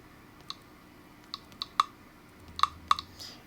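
Number keys pressed on a TI-84 graphing calculator give about a dozen small, crisp clicks in uneven bursts, close by in a quiet room with no talking.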